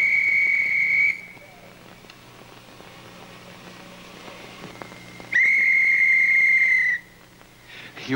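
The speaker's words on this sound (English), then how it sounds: "You whistled?" A person whistles two sustained steady notes, each about a second and a half long, separated by a quiet stretch with faint background hum and scattered small noises in a studio comedy broadcast setting.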